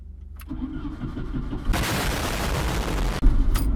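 A 2.5 liter four-cylinder Jeep Comanche that has sat all winter cranks and fires up. A fuel pump hum comes first, then a loud burst of starter and engine roar that settles into a steady idle.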